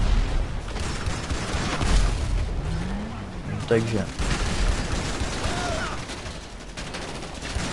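Bursts of gunfire crackle and boom amid GTA 5 Online game noise, with someone talking over the shooting.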